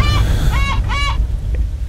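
Poultry in the catacombs of Uncharted: Drake's Fortune squawk in three loud honking calls, closely spaced, over a rumbling game background.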